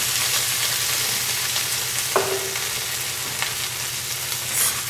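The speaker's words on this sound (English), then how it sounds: "we're going to add a jar of Marinelli's hot and spicy Sicilian tomato sauce." Hot and spicy Sicilian tomato sauce poured in over caramelized onions, anchovy and celery for caponata, setting off a steady close sizzle and bubbling with a faint clink of the pan midway.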